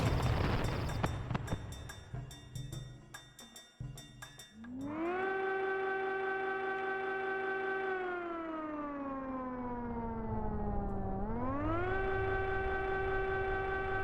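A loud, sustained siren heard in the Final Fantasy XI game world at Kronstadt, holding a steady wailing tone with a slow downward glide and then a rise, following a brief burst of other game sounds.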